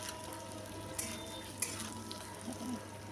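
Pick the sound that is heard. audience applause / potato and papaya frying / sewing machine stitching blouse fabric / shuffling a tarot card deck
potato and papaya frying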